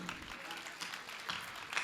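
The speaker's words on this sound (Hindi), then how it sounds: "एक बार जोरदार तालियां इतनी बड़ी मातृशक्ति के लिए।" An audience at a Hindi kavi sammelan comedy-poetry gathering claps together in a soft, continuous patter of applause, heard fairly quietly at a distance.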